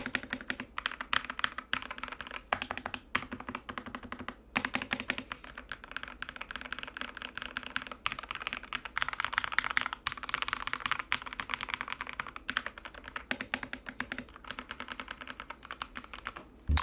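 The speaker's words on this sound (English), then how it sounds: "And then we're rocking my custom keyboard," Steady typing on a custom computer keyboard in a gaming setup, a dense run of close, crisp key clicks and clacks with brief pauses, heard alone without talk.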